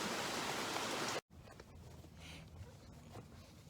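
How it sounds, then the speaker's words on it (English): Steady rain falls outdoors as a dense, even hiss, broken by one brief dropout, then continues softer with faint scattered patters and no voices. "Starting to rain again some more."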